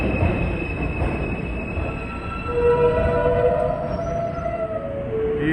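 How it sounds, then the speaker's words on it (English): Manhattan-bound E and F New York subway trains in a station give a steady loud rumble of wheels on rails, with rising and falling metallic squeals layered over the roar. "We got Manhattan-bound E and F trains here."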